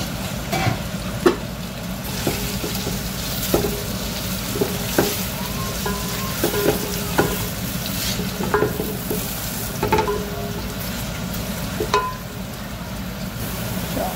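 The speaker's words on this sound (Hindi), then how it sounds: "इसके अंदर हम अपने प्याज डाल के लाल कर" Sliced onions fry in about half a cup of oil for a veal pulao, giving a loud, continuous sizzle with regular clinks and scrapes of a stirring spoon against the pot.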